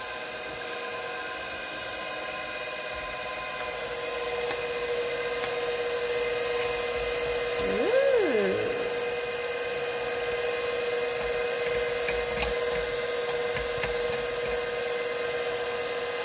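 A stand mixer beats flour, applesauce, dried fruit and nuts into a diabetic-friendly cake batter, giving a steady, even motor hum throughout with a brief wavering swell partway through and no voices.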